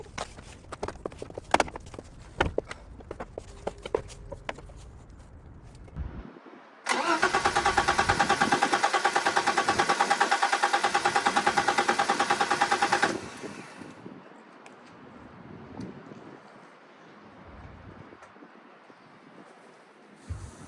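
A BMW E30 325i engine, unstarted for three years, cranks and catches, then runs loudly and steadily for several seconds before shutting off, leaving quieter background clatter.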